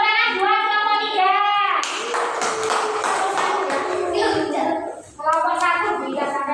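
A group of schoolchildren in a classroom clap their hands together in a busy, rhythmic stretch, with sung or chanted voices before and after the clapping.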